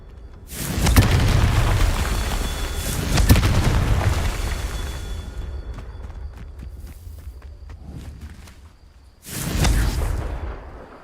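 Confringo blasting spell explosions in a Hogwarts video game: three heavy, booming blasts, two close together early and one near the end, each with a rumbling tail that fades between hits.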